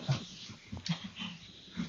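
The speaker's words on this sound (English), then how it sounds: "it's a small dog, but it's very noisy when it gets going" A small dog barks and whines in short bursts, with yips and whimpers scattered over two seconds, moderately close in a lecture room with no talk over it.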